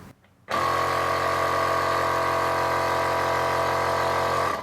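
An OAK & IRON ONE motorcycle tire inflator air compressor switches on after a brief quiet moment and runs with a steady, loud, close buzzing drone that holds evenly throughout.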